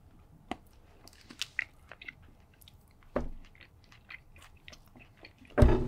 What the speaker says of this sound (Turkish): Bir ısırayım bakayım tadına bu nasıl bir şeymiş